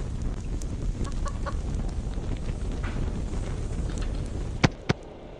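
Clucking chicken sounds from the horror video game Evil Nun, heard as a few soft, scattered clucks over a breathy, wind-like background, ending with two sharp clicks near the end.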